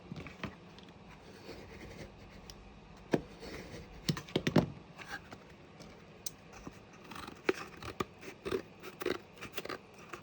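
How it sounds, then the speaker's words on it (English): Scissors snip off excess material on a hot-glued craft piece, giving a series of close, irregular crisp cuts with small handling clicks. "and just gonna trim off the excess."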